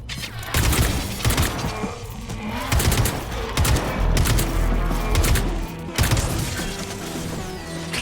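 Kalashnikov rifle gunfire in a rapid, loud fusillade of cracking shots with bursts and pauses, dense and close, with a brief lull near the middle.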